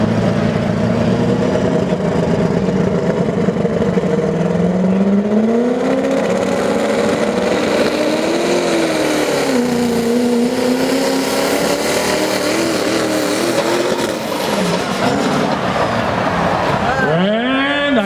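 A Ford 6.0-liter Power Stroke diesel truck pulling at a truck and tractor pull, its engine roaring loud and continuous with rising and falling pitch as it strains down the track, an announcer speaking over it.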